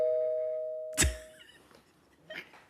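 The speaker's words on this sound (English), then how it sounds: "Did y'all hear the doorbell?" A doorbell chimes once, a single clear electronic ding-dong ringing out near and fairly loud before dying away into a quiet room, with a faint thump or shuffle following.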